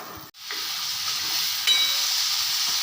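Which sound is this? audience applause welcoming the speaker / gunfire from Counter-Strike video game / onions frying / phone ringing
onions frying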